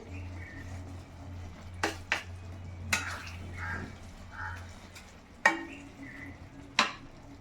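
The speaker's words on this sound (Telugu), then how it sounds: "దీన్ని కలిపేద్దాం. చాలా జాగ్రత్తగా కలుపుకోవాలి, లేకపోతే మనకి ఎగ్స్ అనేవి విరిగిపోతాయి." Egg omelette curry is gently stirred in a pan: faint scraping and a handful of sharp utensil clinks against the pan, with a low steady hum underneath and no talk.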